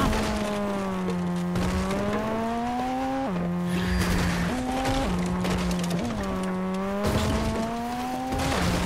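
A vehicle in the video game Fortnite drives off with a close, loud engine whine that climbs through several gear shifts, each rise dropping back before building again, with brief scuffs of tire noise.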